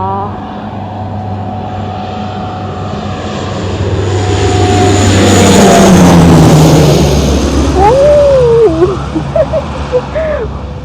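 An airplane flying low near an airport over rice fields during the harvest season roars as it approaches, swells to a loud peak, then recedes. A voice speaks briefly near the end.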